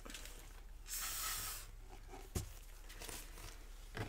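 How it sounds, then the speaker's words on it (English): A single short burst of WD-40 silicone spray hissing into a paint cup, about half a second long, over a quiet background, followed by a few faint knocks. "I'm going to give it just a little spray with the WD-40 silicone spray that I use"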